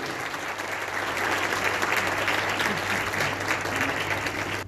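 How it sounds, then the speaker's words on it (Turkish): Loud, sustained applause from a large audience at a commemoration event, dense clapping filling the whole stretch without letting up. "kuvvetli alkışlarınızla sahneye davet ediyorum"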